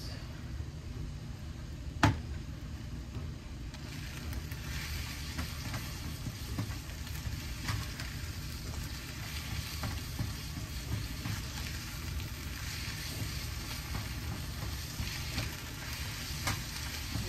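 Eggs frying in a pan, seasoned with pepper and salt: a steady, soft sizzling and crackling that carries evenly throughout, with one sharp tap near the start and no talking.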